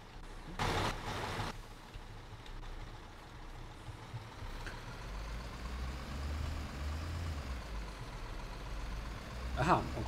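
Truck in the Construction Simulator 2015 game, a low steady engine rumble that rises into a drive-off drone, with a couple of sharp hissing bursts near the start and a clank near the end, fairly quiet throughout.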